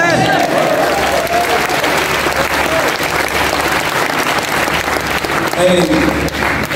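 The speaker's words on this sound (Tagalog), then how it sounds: "Pumalakpak na lang." A church congregation applauds during a sermon, steady clapping filling the room for several seconds, loud and close, with a voice speaking over it near the end.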